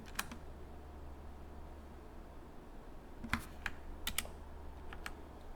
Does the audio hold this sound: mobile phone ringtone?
no